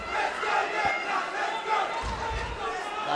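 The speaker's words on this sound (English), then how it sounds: "The crowd getting right into this one now. They are going absolutely berserk in Melbourne." A Melbourne MMA crowd roars steadily throughout, a dense wash of cheering and shouting under a commentator's voice.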